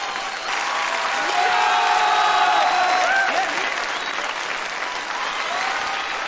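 Audience applause from the film Dead Poets Society, a steady wash of clapping hands from a crowd that swells and then eases, with a few cheers mixed in.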